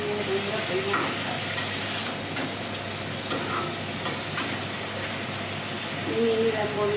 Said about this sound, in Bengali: এই যে কই মাছ ভাজি দিয়ে এর মধ্যে জিরে পোস্ত বাটা লঙ্কা বাটা